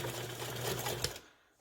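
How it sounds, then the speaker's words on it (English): A sewing machine stitches a half-inch seam in vinyl for a clutch, giving a close, steady whirring run that stops abruptly near the end. "So we're going to go ahead and do our seam at a 1/2 inch."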